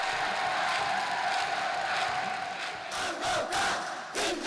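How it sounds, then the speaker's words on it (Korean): Stadium crowd at a football match cheering in a broad continuous roar, with rhythmic bursts of clapping and shouts rising toward the end, heard from a distance. "관람자들은 찬송과 박수갈채를 터치었습니다."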